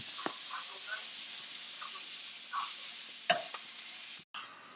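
Steak cooks in a pan with a quiet, steady sizzling hiss, punctuated by a few soft clicks and a brief utensil knock near the end.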